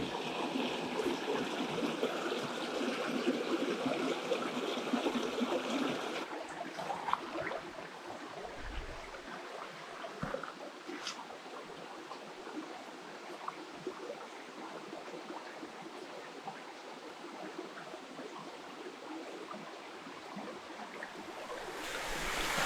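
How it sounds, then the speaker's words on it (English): Distant rushing waterfalls in North Carolina woods in the background, louder at first then settling into a softer steady wash with occasional small knocks. "I'm sure you can hear behind me the waterfalls."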